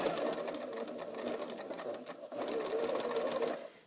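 A sewing machine stitching a curved fabric seam runs in a steady, fast whirring rattle, briefly slowing midway before picking up again and trailing off at the end, fairly close and alone.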